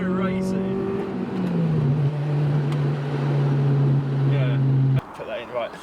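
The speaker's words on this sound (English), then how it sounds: "It's like the engine, it just sounds so racy." A tuned Honda Civic Type R engine revs up close with a loud, steady tone that drops in pitch and holds, then cuts off sharply into a quieter idle, while someone talks.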